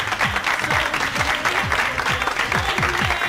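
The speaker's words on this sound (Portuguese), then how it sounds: "uma salva de palmas, moçada" Studio audience applause for a band on a TV music programme, steady moderate clapping with rhythmic low thumps running underneath, mid-distance.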